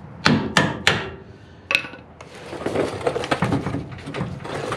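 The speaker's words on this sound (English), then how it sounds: "If I can find my hammer and just tap it out." A hammer taps a bolt out of the twin I-beam front suspension on a 1999–2004 Ford F250 Super Duty: four sharp metallic strikes close up, then lighter handling clatter and shop noise.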